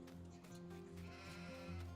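Sheep bleat repeatedly in a field on a West Texas farm during straw harvest, loud and close, with sustained bleats overlapping steadily and no other clear sounds.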